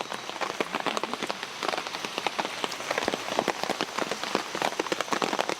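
Steady rain falls at night, a dense patter of drops striking nearby surfaces with no voices, holding an even, moderately soft level throughout.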